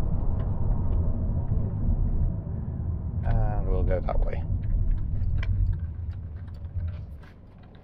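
A Holden Commodore SV8 VY with a 5.7 litre V8 drives along, its deep engine rumble steady and loud throughout, with a brief mechanical ticking burst midway and someone talking over it.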